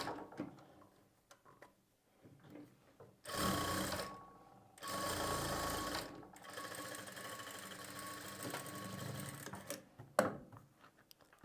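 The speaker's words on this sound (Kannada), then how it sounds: "ಈ ರೀತಿ ಕರೆಕ್ಟಾಗಿ ಜೋಡಿಸ್ಕೊಂಡು ಒಂದು ಹೊಲಿಗೆ ಹಾಕ್ಕೊಳ್ಳಿ." A sewing machine stitches blouse fabric in short, rapid bursts: two quick runs close together, then a longer, lighter stretch of stitching with small clicks and handling noises around it.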